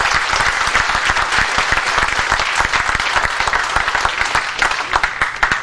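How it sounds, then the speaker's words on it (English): Crowd applauding a high school football team after its win over Canton McKinley, a dense, steady roar of clapping that carries the full clip with no talk over it. "let's give these guys a very big round of applause"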